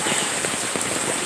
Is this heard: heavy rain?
yes